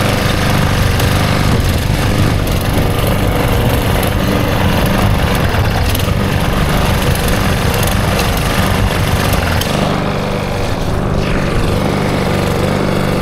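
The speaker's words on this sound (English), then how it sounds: "We have a petrol lawnmower." A petrol lawnmower engine runs steadily and loudly throughout, a close, continuous droning putter with no speech over it.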